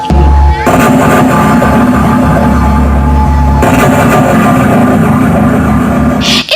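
Two heavy, thunderous bomb blasts boom about three seconds apart inside an assembly hall, within a loud, dense wall of rumbling noise.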